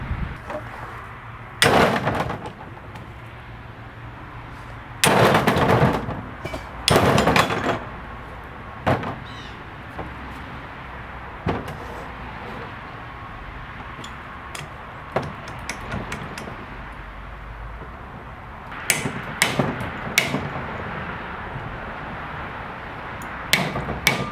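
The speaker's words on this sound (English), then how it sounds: "I'm going to be hammering on that thing at a high speed, hoping to break it loose" Sharp hammer strikes on a cast iron 16HP Briggs engine, trying to knock a stuck part loose: scattered loud metallic bangs, some in quick bursts of several blows, with quieter gaps between and a low background hum.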